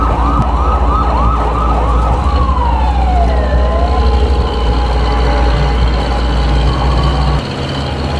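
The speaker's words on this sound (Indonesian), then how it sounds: "Sirene menyala sendiri. Suara keras, lalu menghilang tiba-tiba." A loud ambulance siren wailing with rapid repeating sweeps, then a long falling tone, cutting off abruptly near the end over a low rumble.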